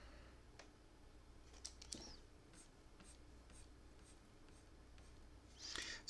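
A pen outlines an illustration on paper, giving faint, close scratching strokes in short, intermittent bursts against a very quiet background.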